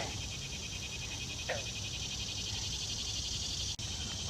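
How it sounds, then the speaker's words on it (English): Steady chorus of frogs calling from a distance at Iroquois Park in July, a continuous high trilling with a faint brief call standing out briefly. "I hear a lot of frogs, but I don't see any."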